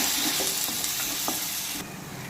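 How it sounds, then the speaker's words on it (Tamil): Tomatoes frying in a pan for drumstick curry, a steady loud sizzle with a few faint scrapes of a spoon stirring through them, close by and without talk. "இப்போ இது கூடவே தக்காளி ஆட் பண்ணிக்கலாம் தக்காளியோட பச்சை வாசனை போகிற அளவுக்கு நல்லா கிளறி விட்டுக்கலாம்"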